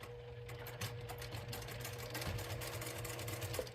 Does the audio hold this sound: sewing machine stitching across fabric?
yes